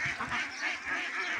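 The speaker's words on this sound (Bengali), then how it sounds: "তো আমার এখানে বেইজিং হাঁসও আছে।" Pekin ducks on a small duck farm, a few close, loud nasal quacks repeating in quick bursts, heard alone with no talk.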